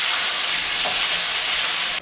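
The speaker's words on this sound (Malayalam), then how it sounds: "എണ്ണ ചൂടായതിന് ശേഷം ഒരു 1/2 ടീസ്പൂൺ കടുക് ചേർക്കാം" Mustard seeds and urad dal hitting hot oil in a pan make a loud, continuous hissing sizzle that holds steady for a moment before stopping abruptly.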